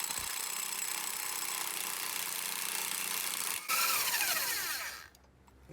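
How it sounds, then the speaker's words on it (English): Pneumatic impact wrench working loose a heavily torqued front wheel hub nut on a 2002 Acura TL-S, a loud sustained buzzing hammer that surges briefly, winds down and cuts off, close up with no talking. "Let's try the impact wrench first."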